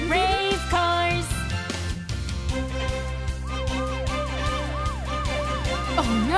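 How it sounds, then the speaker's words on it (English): Cartoon police car siren wailing in a steady up-and-down rise and fall, loud and up front over a bouncy children's sing-along backing track, with no talking. "The Brave Police Car is on the way."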